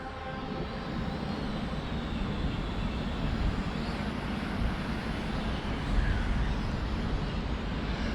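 A budget E68 quadcopter drone climbs higher outdoors, its steady motor drone and airy broadband rush holding at a constant level throughout, close to the microphone with no talk.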